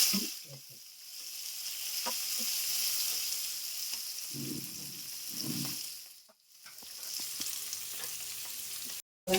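Onion, capsicum and tomato fry in a pan with a continuous close sizzle, broken by soft stirring scrapes and knocks, which fades briefly before resuming and ending abruptly.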